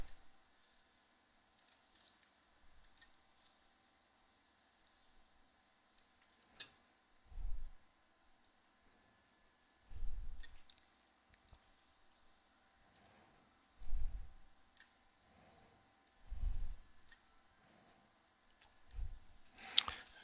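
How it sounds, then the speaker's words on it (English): Computer mouse clicks arrive as sparse, light ticks spread across a quiet stretch, with a few soft low thumps between them and no speech. "double click it, select crop"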